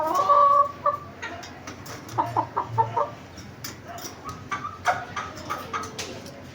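A gamefowl rooster from a breeding program clucks close by in a series of short, sharp notes. Its throaty calls come in irregular bursts against a quiet farmyard background.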